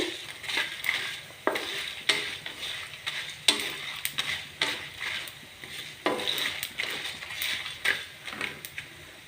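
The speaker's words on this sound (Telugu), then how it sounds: "ఇవి మూడొంతులు వేగాక కొంచెం జీలకర్ర వేస్తున్నా" Curry leaves, dried chilies and cumin dry-roast in a pan, giving a rhythmic run of dry scraping and rustling stirs with light crackling, close and fairly loud, with no voice.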